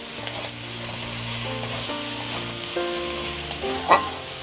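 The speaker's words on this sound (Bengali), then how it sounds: "আর খুন্তি দিয়ে এইভাবে কিন্তু তুলে দিতে হবে" Chicken masala for chicken kosha cooking over low heat, steady frying sizzle with a spatula scraping and lifting it off the pan bottom, a low hum underneath and one louder scrape near the end.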